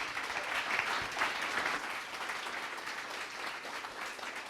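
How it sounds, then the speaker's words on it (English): Audience at a conference applauds a speaker, steady dense clapping from a crowd that holds at an even level throughout without fading. "Everybody give a round of applause for Miki"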